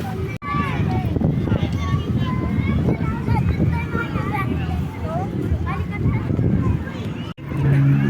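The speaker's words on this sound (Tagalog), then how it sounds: "Malakas ang hangin eh." Strong wind buffets the microphone in a continuous loud roar while several voices talk over it outdoors at Luneta Park.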